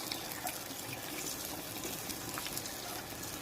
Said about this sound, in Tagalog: magdagdag tayo ng isang basong tubig